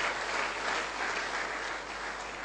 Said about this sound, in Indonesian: tepuk tangan untuk Bapak Al-Ghazali Asul yang ada di Kerinci